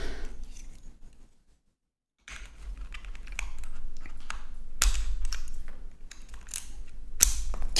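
Keycaps being pried off a keyboard one after another, giving irregular plastic clicks and snaps, some sharp and close, with a short quiet gap early on and no talking.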